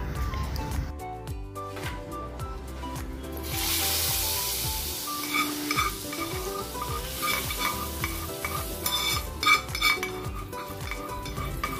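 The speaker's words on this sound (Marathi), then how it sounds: "छान कडक फोडणी लागली आहे" Hot tempering poured into Goan sprouted moong gravy bursts into a loud crackling sizzle that settles into steady bubbling, with stirring and metal utensils clinking against the pot.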